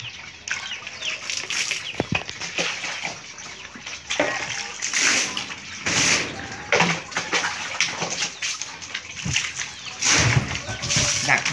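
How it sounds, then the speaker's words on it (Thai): Water splashing and scrubbing on the bottom of a wide 18-inch roti pan about 8–10 mm thick, in irregular washing bursts with a sharp clank, under someone talking. "แล้วก็ต้องล้างก้นกระทะด้วยนะครับ"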